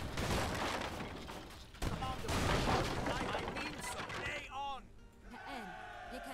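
Cannon fire in a naval battle on the Great Lakes map in Age of Empires 3: Definitive Edition comes as dense volleys of booms and crackling gunfire in a busy game mix, followed by softer tonal game sounds near the end.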